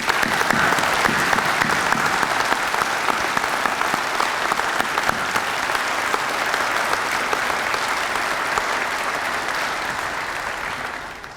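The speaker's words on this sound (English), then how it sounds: "will you help me applaud the new inductee" An audience applauds new Nashville Fire Department inductees at a recruit graduation, a large crowd's dense, sustained clapping that holds strong for about ten seconds before tapering off at the end.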